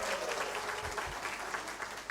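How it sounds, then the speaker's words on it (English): A conference audience applauds, a dense, even wash of many hands clapping at moderate distance, sustained without a break and without voices over it. "Can we give each other a big applause for that?"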